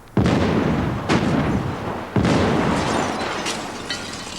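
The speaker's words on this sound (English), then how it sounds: "The explosion will be on the screen for just 10 seconds" A special effects explosion at a remote gas station set for a film, made of three loud, booming blasts in quick succession, each a sharp onset followed by a dense roaring decay.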